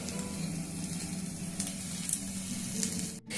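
Whole cardamom pods, cloves, fennel seeds and cumin seeds dry roasting in a pan, giving a steady close sizzle and crackle with light scraping stirs and a brief clatter at the end.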